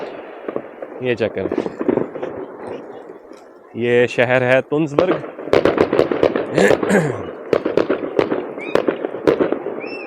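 Dense New Year fireworks over a city in Norway crackle and pop in rapid bursts, some sharp and near, while someone talks over the steady barrage.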